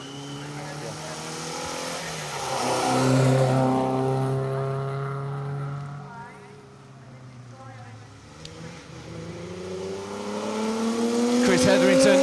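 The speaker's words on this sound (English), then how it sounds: "Chris Hetherington, Kevin Robinson being hounded. by that Sierra XR 4x4" A Ford Sierra XR4x4 rally car races along a historic rally festival stage, its engine note rising and falling through gear changes as it passes at speed, with a commentator talking over it.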